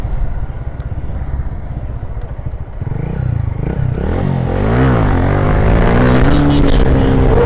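A motorcycle engine revs hard for a wheelie, starting with a rough idle and climbing into loud, rising and wavering revs close by.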